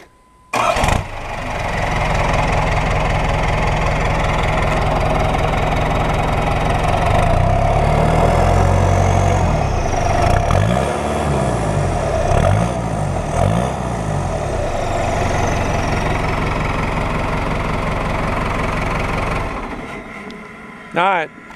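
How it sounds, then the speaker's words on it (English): A Cummins 4BT diesel engine in a Chevy K1500 truck cranks and fires up, then idles with a loud, deep, rough clatter and a few revs before shutting off near the end. "I'll have my son Ethan fired up and let you see and hear what the exhaust sounds like."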